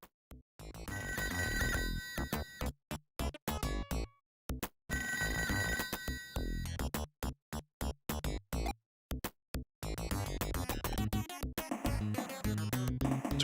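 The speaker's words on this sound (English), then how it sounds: "So there's a phone around here." Telephone ringing in the Toe Jam video game, bursts of electronic ringing tones chopped into rapid on-off pulses, repeating in clusters over several seconds, loud and alone without talk.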